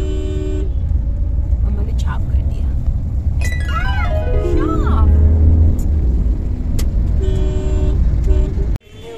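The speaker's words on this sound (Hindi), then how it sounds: "हमारी कैब बाहर वेट कर रही है" Cab ride through busy Indian city traffic on the way to a railway station: a constant engine and road rumble under repeated car horn toots and honks, with voices talking over it.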